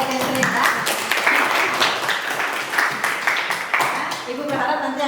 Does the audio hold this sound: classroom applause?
yes